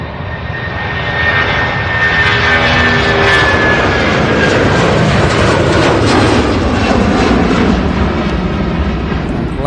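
An Allegiant airliner rolls along the runway at Louisville's SDF airport, its engines giving a steady, loud roar that swells slightly and holds for the whole stretch, with no voices over it.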